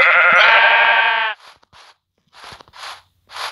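A sheep in the Lokicraft 2 video game gives one loud, close, sustained bleat, followed by several shorter, fainter rustling or footstep-like bursts with gaps of silence.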